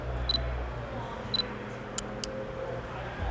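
A mirrorless camera firing its electronic shutter during a low-light test with a 56mm f1.2 lens: a few faint, short clicks and ticks, spaced irregularly, alone over a quiet hum.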